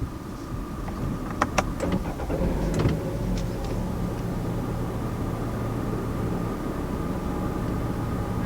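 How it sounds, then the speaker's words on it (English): A 2020 Nissan Rogue starting by push button: a couple of sharp clicks, a brief starter whir, then the engine settling into a low steady idle hum heard from inside the cabin. "Now to start the Rogue, just press the button."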